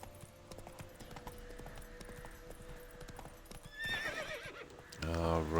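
Roach, a horse in the video game Witcher 3, trots with quick clip-clop hoofbeats, then lets out a loud, wavering neigh near the end, under low game sounds.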